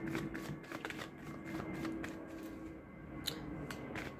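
Tarot cards are shuffled for a reading, a soft, close riffling and flicking that runs steadily throughout at low volume, with no talking over it.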